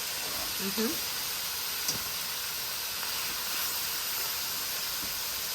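Thinly sliced pork browns in a metal pan during a stir-fry, giving a steady, even sizzling hiss that runs throughout. A faint, brief voice and a light tap show up near the start.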